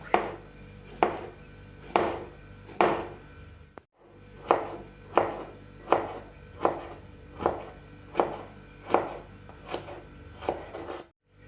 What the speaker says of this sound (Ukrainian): Сто п'ятдесят грам свіжого гірка теж нарізаємо соломкою.